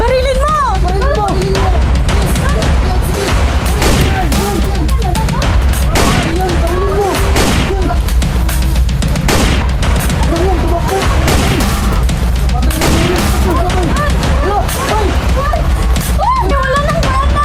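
Video game gunfire in an angel-versus-sigbin battle, with loud, dense bursts and rapid volleys that go on nonstop. Players shout excitedly over the shooting.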